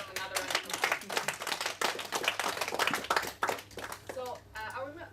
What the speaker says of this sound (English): please just give him another round of applause.